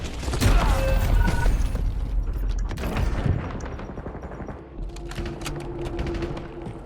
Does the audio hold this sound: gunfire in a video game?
yes